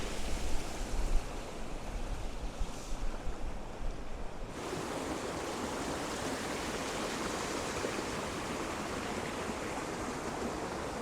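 The Brontë waterfall in Yorkshire flows strongly in winter after days of heavy rain, a dense, steady rushing roar of water that fills the scene, heard alone without voices.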